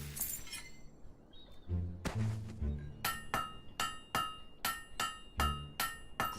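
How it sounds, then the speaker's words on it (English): Hammer striking metal at a forge in the video game Fable III, a run of sharp ringing clangs repeating in a steady rhythm, with a few heavier thuds and clinks before the regular blows settle in. "Great hammer work there."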